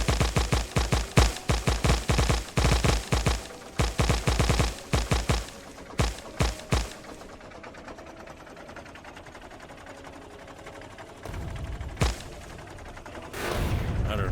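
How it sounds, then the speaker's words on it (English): Cannon fire in Factorio, modded with Angel's and Bob's mods: rapid bursts of loud, sharp repeated shots for several seconds, then sparser thuds fading into quieter mechanical background hum. "I do not know what that cannon was firing at there."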